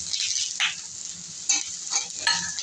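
Green chillies are stirred into frying onions and cashews in a pan. A constant close sizzle is broken by several scraping stir strokes, with no voices.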